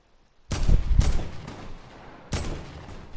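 Gunshots from a weak weapon in a video game, two sharp close bursts about two seconds apart, each trailing off with a brief rumble, no talking.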